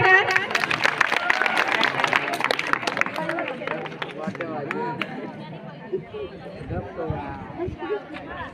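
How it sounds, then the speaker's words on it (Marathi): A crowd at a college farewell event claps, a dense burst of applause that fades over several seconds into scattered claps with chatter and voices. "टाळ्या वाजवा थोड्या."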